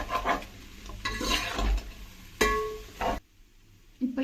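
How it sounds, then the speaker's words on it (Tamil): Vegetables being stirred in a pan for hotel-style chicken fried rice: a spatula scrapes and clinks against the metal in uneven strokes over a soft sizzle, then stops briefly before resuming. "இதை நல்லா மிக்ஸ் பண்ணிக்கோங்க."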